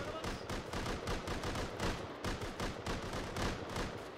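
Rapid, dense gunfire in the video game Rust, a loud, continuous run of cracking shots with a steady rhythm over about four seconds, and no talking.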